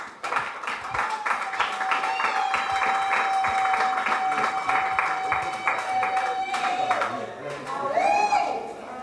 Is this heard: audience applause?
yes